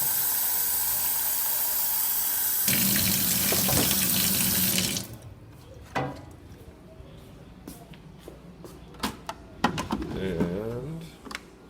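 Water runs from a kitchen sink tap in a steady loud hiss for about five seconds, then stops. Clatter, clicks and a person speaking follow in the quieter room.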